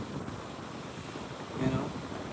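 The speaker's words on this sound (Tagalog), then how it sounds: "Dahil sa lakas ng hangin." Steady, broad wind noise from typhoon-strength winds under Signal No. 4 buffets the microphone throughout, with a stronger gust swelling near the end; no other clear sounds stand out.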